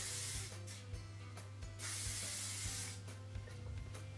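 Bursts of Shine Head shine spray are sprayed onto big, volumised hair, several short aerosol hisses in an uneven rhythm, close and loud over a steady low background hum.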